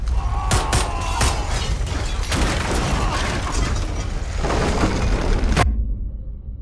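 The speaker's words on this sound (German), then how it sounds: "Gesprengt, das muss das Erdbeben ausgelöst haben." Explosion followed by a heavy earthquake rumble in Wolfenstein: The Old Blood, a crypt wall blown open: loud, dense roaring noise with sharp crashing bursts throughout, cutting off abruptly near the end into near silence.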